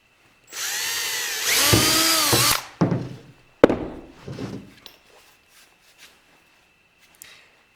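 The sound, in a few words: power drill drilling a hole in wood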